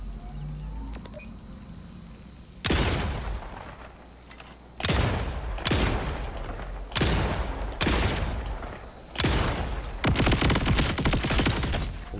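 Bursts of gunfire from a sticky-projectile gun in the video game Borderlands 4, about five loud broadband blasts spaced one to two seconds apart, each with a decaying tail, starting after a quiet opening.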